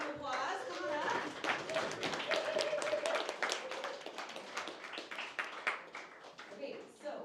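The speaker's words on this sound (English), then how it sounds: "Give these guys a round of applause." A crowd applauds the mastermind captains at a team meeting, dense clapping sustained for about seven seconds at fairly even loudness before tapering off, with a few voices calling out underneath.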